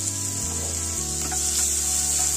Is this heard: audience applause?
no